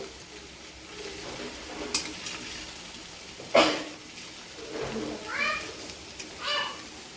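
A spoon scrapes and stirs a dry spiced potato curry in a pan after salt goes in, soft scraping under a faint sizzle, with a sharp clink midway and a few brief chirpy squeaks later, near and fairly quiet.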